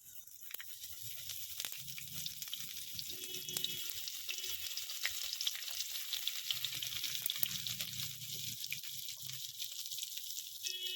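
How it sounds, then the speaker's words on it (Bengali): Dry chilli, bay leaf and panch phoron sizzle steadily in hot oil, a close, soft crackling hiss with scattered pops that continues on its own without talk. "এবার তেলের মধ্যে দেবো শুকনো লঙ্কার তেজপাতা ফোড়ন পাঁচ ফোড়ন"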